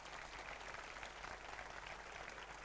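Sustained applause from an audience fills the hall, a steady broadband patter of many hands clapping, faint and distant, with no voices over it.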